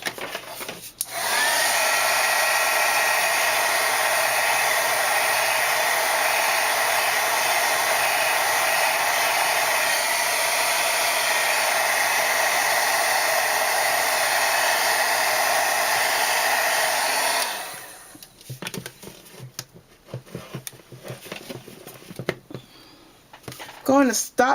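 A heat tool blows hot air over a handmade poinsettia Christmas card, a loud steady broadband whoosh running close for about sixteen seconds before it cuts off and quiet handling noises follow.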